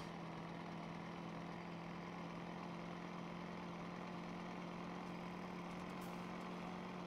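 A vehicle engine runs in Farming Simulator 17 on the South Mountain Creamery farm, a steady, droning hum with a low tonal whine that holds unchanged throughout.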